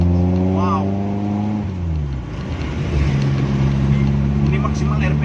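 A Suzuki Feroza engine with a newly installed HCS revs hard, its pitch falling and then holding steady at a loud, strong drone, with someone talking over it.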